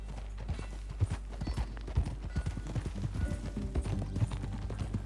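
Horse galloping in Red Dead Redemption 2, heavy rapid hoofbeats pounding close and loud over a deep rumbling background, with faint ambient game sound throughout.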